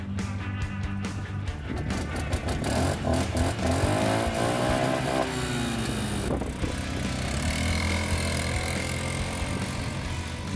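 A Bison 4x4 ATV quad engine pulls hard toward top speed on a dirt track, a loud, continuous buzzing drone whose pitch climbs and resets as it gains speed, with wind rush over it.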